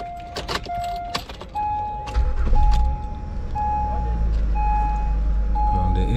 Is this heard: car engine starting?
yes